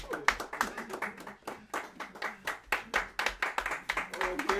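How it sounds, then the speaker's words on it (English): A group of people claps at a 60th birthday morning prayer gathering, uneven close handclaps rising and falling in bursts, with voices talking over them. "Let's clap for him and he comes."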